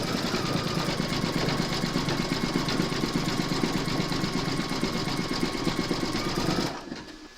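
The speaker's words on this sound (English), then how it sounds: "pop your hoop into your machine and stitch round number 4" An embroidery machine stitches leaf detail and a zigzag edge on a large maple leaf applique, with a fast, steady mechanical chatter that runs continuously, then abruptly stops near the end.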